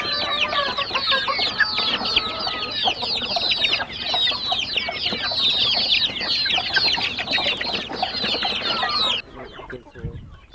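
Many chickens on a Cambodian poultry farm cluck and squawk together in a dense, lively chorus, near and steady, before the noise abruptly drops off at the end.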